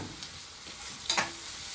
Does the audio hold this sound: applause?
no